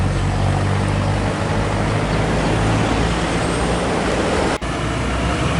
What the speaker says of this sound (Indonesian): Iya, ini dia bosku, bus double deckernya memasuki